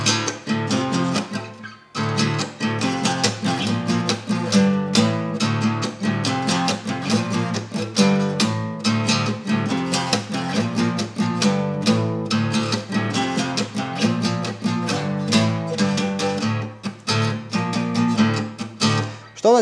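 Strummed acoustic guitar plays the chorus of a song in a steady, dense rhythm with brief pauses between strokes, loud and close throughout with no voice over it.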